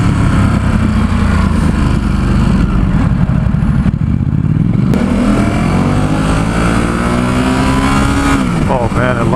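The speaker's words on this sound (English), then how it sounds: "Oh man, it likes to rev." A 2017 Ducati SuperSport S motorcycle roars loudly up close while being ridden on city streets, its engine revving hard with rising and falling pitch throughout.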